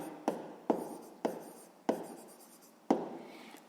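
Hand writing on paper during a sixth-grade math exercise, with a series of distinct scratchy pen strokes, about six taps and scrapes spaced unevenly, close and quiet, with no talking.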